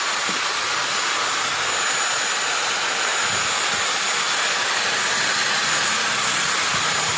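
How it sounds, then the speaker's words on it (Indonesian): A 500 watt electric angle grinder runs steadily at full speed, a loud continuous high whine and hiss with no pauses and no talk. "Nah, ini gerinda ini 500 watt. Nah, kita coba tes di sini."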